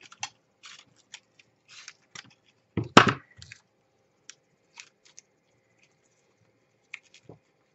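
Scissors snipping paper while assembling a scrapbook album with flower details: a few sparse, quiet snips, then one louder, denser burst of cutting midway, in an otherwise quiet room.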